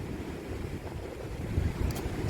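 Ocean waves wash over coastal rocks at sunset, a soft continuous low rumble mixed with wind noise, a gentle surge swelling near the end.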